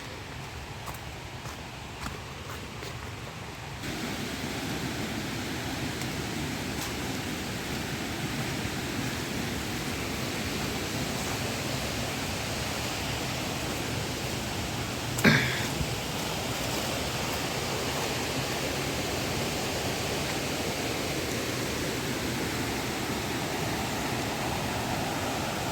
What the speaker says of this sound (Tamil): ஒரு அடர்ந்த காட்டுக்கு நடுவில் இப்படி ஒரு அருவி